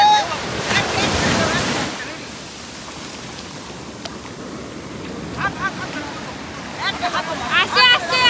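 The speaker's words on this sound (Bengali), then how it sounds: "তাতেও দেখ কত ঢেউ আছে।" Ocean surf rolls and crashes steadily at Cola Beach in Goa, a broad wash of breaking waves with wind buffeting the microphone and a few distant voices and calls near the end.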